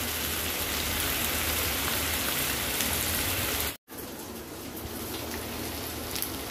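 Tomatoes added to fried onions sizzle loudly in a hot pan, a dense crackling hiss that stays steady and close, briefly cut off midway before resuming.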